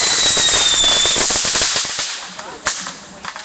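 Firecrackers and fireworks set off by a family pop in rapid, dense crackling bursts that thin out into scattered louder bangs, heard from a short distance over a faint hiss.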